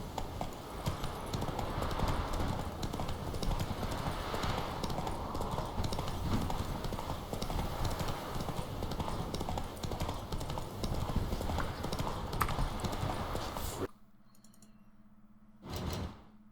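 Galloping hooves on a horse in Witcher 3 drum rapidly and steadily for about fourteen seconds, then cut out abruptly, leaving near quiet broken by one brief thud.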